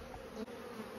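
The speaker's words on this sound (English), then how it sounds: "Look at these bees covering my face." Steady, close insect buzzing of an angry honeybee swarm fills the clip, a continuous droning hum with no voices.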